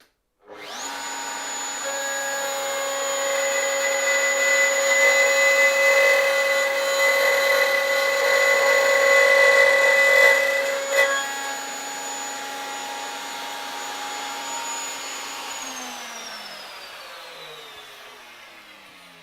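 Wood router making a second dovetail cut in a jewellery chest piece: a loud, steady high-pitched whine that spins up, holds for about fifteen seconds with a brief bump partway, then winds down, with no talk.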